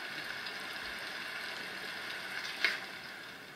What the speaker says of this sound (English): Hear the falling rain?